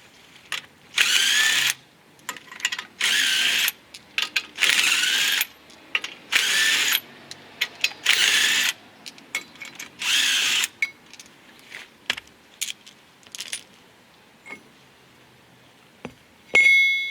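A power tool, likely an impact gun, takes a wheel spacer off a 1990 Chevy truck during a six-lug conversion. It fires in loud repeated bursts of about a second each, then gives way to scattered clicks and clanks of loose parts.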